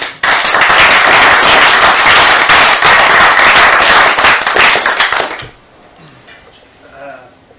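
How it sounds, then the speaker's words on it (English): An audience claps loudly for a speaker at a talk on family courts, a dense burst of many hands that starts abruptly, holds strong for about five seconds, then quickly dies away into quiet room sound. "Come on, Stephen, give him a good clap, please."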